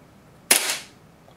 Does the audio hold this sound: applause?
no